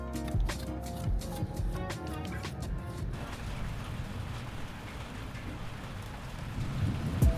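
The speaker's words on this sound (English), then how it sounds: "A storm rolled through the Atlantic" Steady heavy rain pours down in Portugal while low thunder rumbles through, with sharp crackling strikes early on before settling into a continuous downpour.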